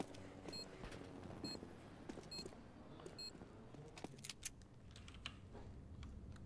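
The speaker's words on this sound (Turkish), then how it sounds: "Klavye sesi çok mu geliyor?" Computer keyboard typing during an online game session, a steady run of quiet clicks and key taps layered over game audio and faint background beeps, no one speaking.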